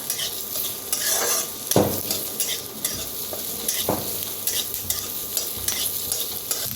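Onion roasting in a little oil over a village wood-fired stove, with a dense crackle of sizzling and stirring broken by a few sharp, loud pops from the fire.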